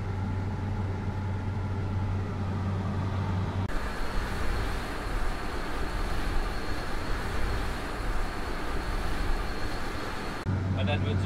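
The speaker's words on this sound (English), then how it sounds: "this is what it looks like inside the cab of the X9, and that's the HD hinged draper header, 45 foot" Steady engine and machinery drone inside the cab of a John Deere X9 1100 combine harvester cutting with a 45 ft HD hinged draper header, a continuous broadband rumble with a brief tonal hum at the start and end.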